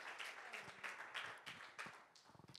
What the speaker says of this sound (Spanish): Dele un fuerte aplauso a Cristo.